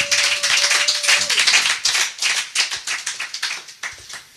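A church congregation claps for Jesus Christ in quick, uneven bursts, loud and close, a dense patter of many hands that thins toward the end with a brief held tone early on.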